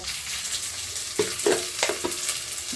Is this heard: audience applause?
no